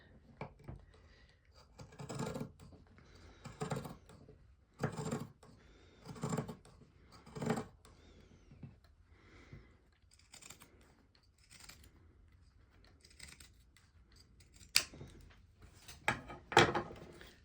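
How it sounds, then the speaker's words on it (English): Pinking shears cutting fabric remnants along a marked line for a curtain, a series of about a dozen crisp crunching snips spaced a second or so apart, close and fairly quiet with faint handling noise between. "with the pinking shears. Taking my time to cut exactly on that line."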